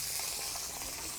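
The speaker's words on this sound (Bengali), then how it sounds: "মাছগুলো এবার আমি ভালো করে ভেজে নিই" Fish frying in a pan gives a steady, even sizzle and hiss that runs the whole moment at low volume, with no voices over it.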